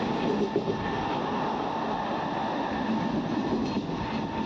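Interior of a moving passenger train, a steady close rumble of wheels and carriage with faint rattling, continuous throughout and without talking.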